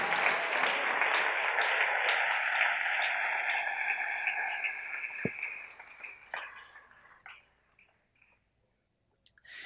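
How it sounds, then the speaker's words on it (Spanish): Applause from a church congregation honoring the King during a Spanish-language service, a dense sustained clapping that fills the room for about five seconds, then thins into scattered claps and fades nearly to silence. "Denle ese aplauso al Rey."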